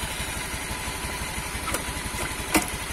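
A 2011 Honda Beat motorcycle engine idling smoothly at close range, a steady, even low putter with a regular rhythm throughout, broken only by a faint click near the end.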